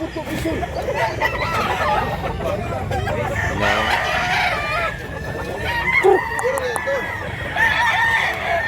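Roosters and hens at a gamefowl farm in Mantalungon, Cebu, crowing repeatedly and clucking in a dense overlapping chorus, close and loud throughout.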